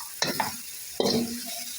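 Egg kottu pieces stirred in a hot pan, two bursts of sizzling and scraping spatula strokes with a brief pause between, close and clear, no voices.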